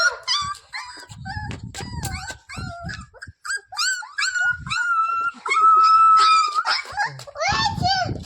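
A small puppy whimpers and yelps in high, wavering cries, close and fairly loud, with people talking over and between the cries.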